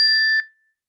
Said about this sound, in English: So the piece of music we have has a gong in it.